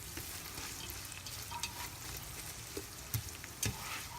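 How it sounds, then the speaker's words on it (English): Onions with a little salt sautéing in a pan, a quiet steady sizzle with a few soft stirring knocks. "Let's saute these onions until it turns"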